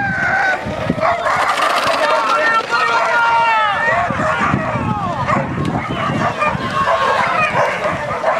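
Several dogs bark loudly and persistently close by, overlapping with shouting voices and what sounds like a rooster crowing amid the commotion.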